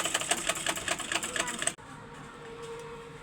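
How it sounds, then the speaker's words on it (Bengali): Sewing machine stitching elastic onto a salwar, a fast rattling run of needle strokes for under two seconds, then it stops, leaving a low hum. "এটা আমি পুরোটা সেলাই দিচ্ছি"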